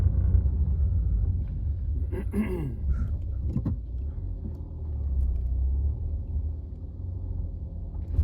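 A Renault Megane IV with a 7-speed automatic gearbox pulls away with judder, a low close rumble of engine and drivetrain, with a few faint clicks and rattles inside the cabin.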